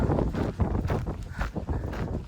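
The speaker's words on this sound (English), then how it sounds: "The problem is it's very windy" Steady, rough wind on a hilltop in France buffeting the microphone in gusts, a low continuous roar with no voices.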